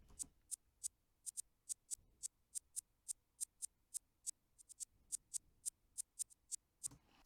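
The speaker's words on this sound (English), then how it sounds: "That hi-hat's actually reversed and pitched down," Reversed, pitched-down hi-hat sample in a drill beat, swelling into each hit for a soft, sucking texture, repeating in a quick, steady run of roughly two dozen hits with a few rapid doubles, played alone.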